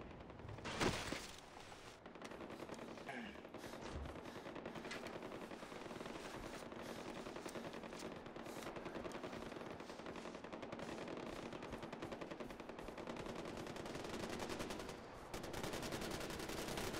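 Sustained enemy gunfire in Far Cry 4, continuous machine-gun bursts and rattling shots filling the scene at steady loudness, with one sharper blast near the start and no talk over it.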